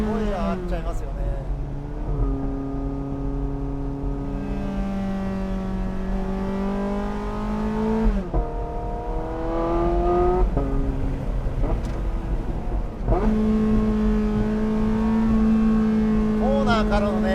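A Porsche 918 Spyder pulls hard at full throttle out of a corner, its engine note climbing steadily, dropping at two gear changes, then rising again, loud and steady throughout.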